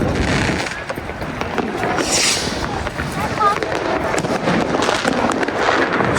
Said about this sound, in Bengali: স্নো ফ্লাইং হচ্ছে এবং তার সাথে আতশবাজি